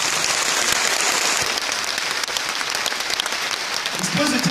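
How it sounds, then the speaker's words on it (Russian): Audience applause for a fast-fashion company at a Faberlic corporate event, a steady dense wash of many hands clapping that holds evenly throughout with no pauses. "Ваши аплодисменты нашей компании"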